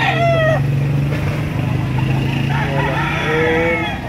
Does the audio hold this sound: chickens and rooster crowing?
yes